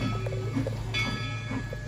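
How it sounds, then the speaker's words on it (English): A train rolls in with a steady low rumble and faint wheel clatter, a brief higher tonal swell joining partway through, all at moderate distance with no talk over it. "Come on, Mr. Train. There it is, see?"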